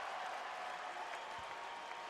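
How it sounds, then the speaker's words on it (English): Basketball arena crowd on its feet at a Lakers home game for Kobe Bryant's career high, a dense, even wash of applause and cheering heard from a distance, continuous throughout. "Crowd's on its feet for a career high for Kobe."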